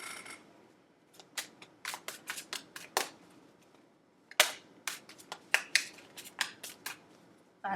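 Crisp, rapid riffling bursts of tarot cards being shuffled up close, coming in quick uneven clusters with short pauses between.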